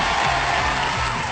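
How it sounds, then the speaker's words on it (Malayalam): Applause and cheering from a crowd greeting an elderly woman arriving at a community gathering in Chooralmala, Wayanad, Kerala, a dense steady clatter of clapping filling the whole short burst. "കൊണ്ട് കയ്യടി."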